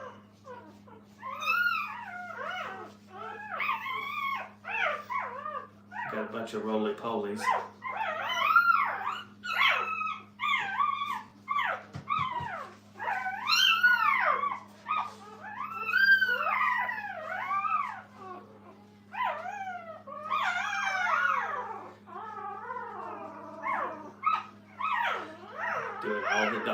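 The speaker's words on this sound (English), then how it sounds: "Doing all the dog noises, growling, fussing." Puppies in a kennel whimper, yip, howl and growl almost without a break, close up and fussy, with a steady low hum underneath and a brief spoken remark partway through.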